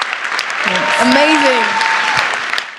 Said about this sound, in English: Can we give that a little round of applause?